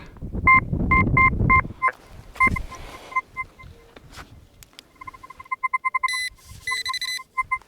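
Metal detector tones beeping while digging for coins in the ground: repeated short electronic pips in rhythmic bursts, then a rising series of rapid beeps and high warbling signals, loud and close, along with scraping and digging noises.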